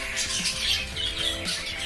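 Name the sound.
Java sparrows squawking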